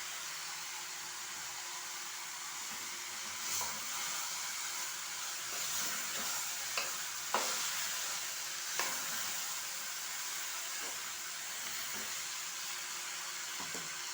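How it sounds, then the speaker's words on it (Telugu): Tender ridge gourd curry with tomato cooks in a pan, giving a steady sizzling hiss with a few sharp taps as it is stirred now and then. "ఇట్లా మధ్య మధ్యలో కలిపేసుకుంటూ ఉండాలి"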